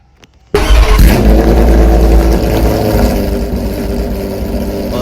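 A Porsche in the Roblox game Driving Empire starts abruptly after a moment of quiet, then its engine roars loud and sustained, revving hard and holding at a high, steady drone.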